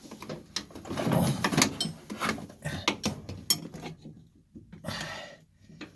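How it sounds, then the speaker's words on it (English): A wrench turns a bolt during a manual brake installation. Intermittent metallic clicks and clanks sound up close, in uneven bursts separated by short pauses. "Another wrench. I'll get a wrench up there."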